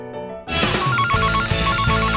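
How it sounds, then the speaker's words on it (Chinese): A telephone rings loudly and steadily after a brief quiet start, its repeated electronic bell tone filling the moment alone without any talk. "这电话就来了"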